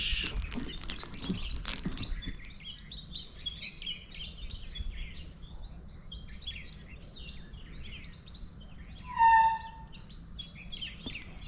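Birds chirp and twitter steadily in the morning around a sea-cliff resort on the Konkan coast, a busy chorus at middle distance, with one nearer, louder call standing out briefly near the end.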